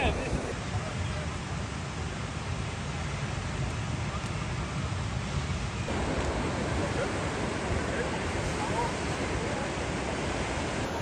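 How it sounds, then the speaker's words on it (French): Ocean surf at a beach during a surf event, a constant broad wash of breaking waves mixed with wind noise that gets slightly rougher partway through, heard close and loud. "Ça va, il y a encore des vagues en vrai,"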